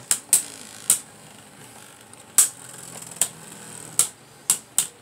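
Hand-spun Beyblade Burst tops clash in a plastic stadium, with sharp clicking impacts at irregular intervals, some in quick pairs, over a faint steady whir and no voices.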